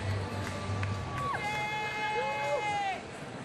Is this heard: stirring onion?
no